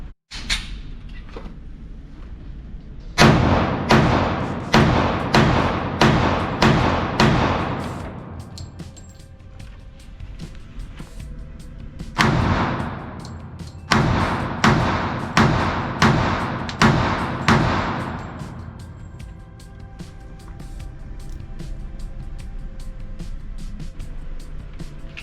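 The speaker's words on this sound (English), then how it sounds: "Next gun of the day is the Springfield Armory XDS, chambered in 45 ACP." A Springfield Armory XDS pistol chambered in .45 ACP fires two loud, close strings of about six shots each, the sharp reports echoing with a decaying tail and separated by a pause.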